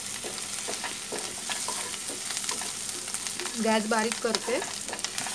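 Finely chopped green chillies frying in hot oil in a pan for tawa pulao, a steady sizzle with stirring clatter while someone speaks briefly over it.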